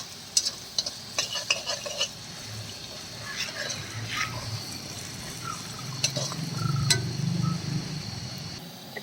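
Tuna pickle mixture sautés in a pan, with a steady soft sizzle broken by clinks and scrapes of a spoon stirring, and a louder bubbling hiss building near the end; no talk.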